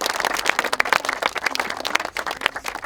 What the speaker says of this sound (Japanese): みんな自分で拍手してください。